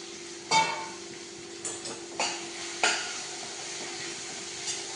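Crushed ginger, garlic and curry leaves sizzle in a hot pan as a steady close hiss, with a few sharp clinks and scrapes of a utensil scattered over it and no voices.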